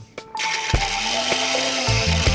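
A mixer grinder coarse-grinds green chillies, salt and onions, its motor whining steadily at close range with rattling pulses and shifting pitch.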